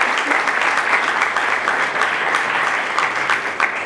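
A crowd applauds Jakub Skrzypczyk of Szkoła Liderów at a graduates' debate, with dense, steady clapping filling the whole stretch at an even level and no voices on top.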